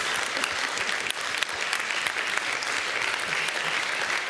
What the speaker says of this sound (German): Bitte einen Applaus, sonst hätten wir den Abend hier heute nicht.